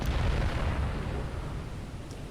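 Battleship main guns firing in the naval game Battleship Command, a heavy booming blast that rumbles and decays over about two seconds, loud and alone with no talking.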